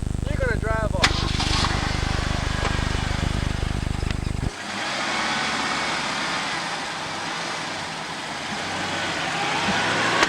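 A vehicle pulls away at a drug destruction training site: a loud, steady engine rumble for several seconds, then a shift to a broad, rushing road and engine noise as it drives off.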